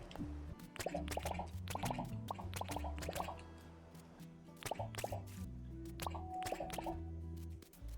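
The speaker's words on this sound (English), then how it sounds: "Alright, water them all up." Watering crops in the video game Dinkum, a steady run of small splashing drips and plops layered over game music, close and without talk.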